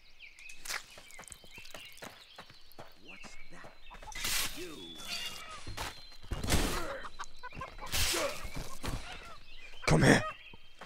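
Chicken clucks in the Blade and Sorcery VR game, scattered amid footsteps and movement noise, with a louder burst near the end and someone talking in between.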